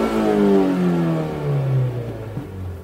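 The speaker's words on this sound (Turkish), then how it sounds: "Bakın kesiciye kadar bağırttırıyorum arabayı" A car engine revs hard up to the rev limiter, a loud climbing-then-held mid-pitched roar that wavers briefly near the top before easing down, heard close with no talk over it.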